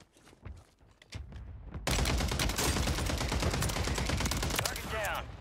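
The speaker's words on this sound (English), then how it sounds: "And I'm getting sniped at." Warzone 3 video game gunfire with sniper shots incoming: rapid sharp cracks and bursts of shooting, loud and dense after a quieter start with a few isolated shots and footsteps.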